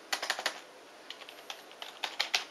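Keys on a Logitech G15 V2 gaming keyboard being typed on, giving quiet, close bursts of crisp clicks in uneven clusters with short pauses between them, with no talking.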